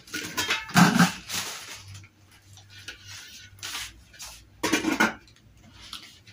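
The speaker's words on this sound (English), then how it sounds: "So I'm busy chopping butternut." A knife chops butternut squash on a board in a home kitchen, giving two bursts of quick clattering cuts separated by a quieter stretch with faint background hum.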